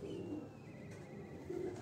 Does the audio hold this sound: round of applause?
no